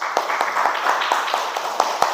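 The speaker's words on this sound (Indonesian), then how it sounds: "beri tepuk tangan pada kelompoknya Jessica." Scattered clapping from a classroom of students for a presenting group, a few sparse, moderately close claps over a steady room background.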